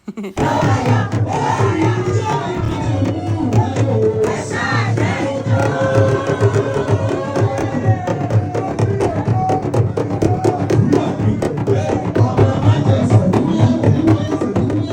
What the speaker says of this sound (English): you need to hear us cheering our bride, cheering up our bride.